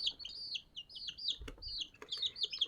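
Chickens near an incubator give rapid, high-pitched peeping and clucking calls in quick overlapping bursts throughout, with a brief low thump in the middle and no talk.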